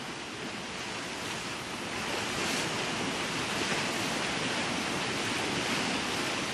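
Choppy sea at Changi Beach churns in a constant broad wash of surf, loud and close, with wind buffeting the microphone and no voices.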